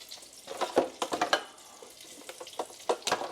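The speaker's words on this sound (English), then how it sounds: "I've got a tortilla and a hot pan" Tortilla handled in a hot pan, scattered soft crackles and taps in irregular bursts with a faint hiss between them, close and fairly quiet, without any talking.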